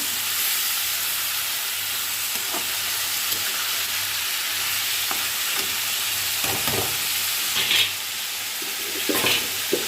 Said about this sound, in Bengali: চিচিঙ্গাটা দিয়েছি এবার চিংড়ি মাছগুলো দিয়ে দেবো দিয়ে এবার একটু নাড়াচাড়া করে